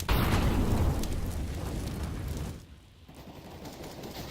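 Sustained automatic gunfire sprays loud and dense in a crossfire on the Inferno map of Counter-Strike, a continuous rattling burst that fades briefly near the end before resuming more quietly.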